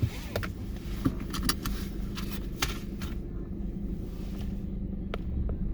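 Inside a moving car, a continuous low rumble of road and engine noise runs throughout, with scattered clicks and rattles over it.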